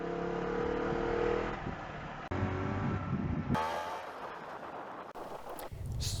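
An Aprilia RS50 50cc geared motorcycle engine hums steadily, then cuts briefly and comes back at a new pitch as the rider shifts gear, revving on at close range with no talking.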